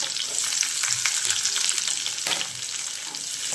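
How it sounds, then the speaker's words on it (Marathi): Garlic and then onion frying in oil in a pan, a steady close hiss of sizzling with soft stirring scrapes throughout, dipping slightly partway through before continuing. "त्यामध्ये टाकत आहे लसूण, फ्राय झालं की त्यामध्ये टाकत आहे कांदा."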